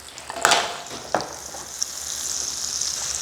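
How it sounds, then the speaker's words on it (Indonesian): A heap of spice paste for soto ayam Lamongan is stir-fried in oil, giving an even hissing sizzle with a couple of louder clinks and scrapes from the spatula early on, close and without speech. "Nah, ini kita tumis. Bumbunya banyak ya tuh. Ini bakalan medok banget nih. Kita tumis sampai harum ya."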